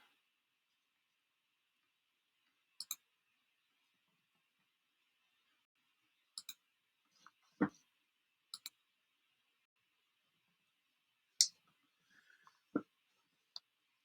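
A computer mouse clicks sparsely in a quiet room, mostly as sharp double clicks spaced a few seconds apart, close and crisp against near silence.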